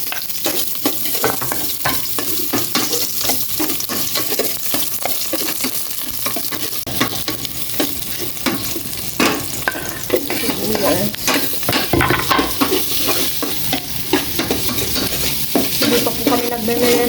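Ginger and garlic sizzle and fry in a hot pan while being stirred, a steady loud crackle with scraping stir strokes throughout and no talking.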